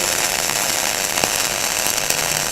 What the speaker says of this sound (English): and weld up onto the previous weld.